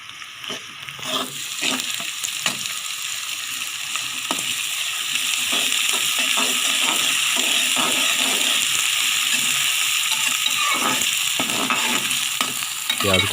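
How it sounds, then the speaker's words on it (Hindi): Onion and garlic frying in a pan while being stirred continuously, a loud close sizzle that swells and holds steady with repeated scraping clicks of the spoon, and no voices. "प्याज को हिलाते रहना है वरना ये जल जाएगा।"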